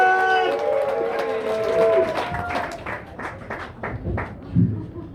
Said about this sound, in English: Thanks for clapping till I get to the fucking microphones